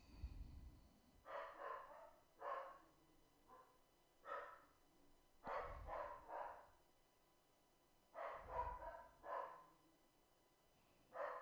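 A dog barks in short clusters of two or three barks, separated by pauses, across roughly eleven seconds. The barking sounds somewhat muffled and distant, as if from another room, with no one speaking.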